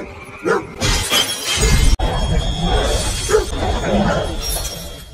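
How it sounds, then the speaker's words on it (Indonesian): Glass shattering as a molotov cocktail is thrown at a house in a film scene, with a sharp crash followed by crackling, clattering noise and a sudden cut partway through. "ia melemparkan bom molotov ke rumah tersebut sebelum pergi"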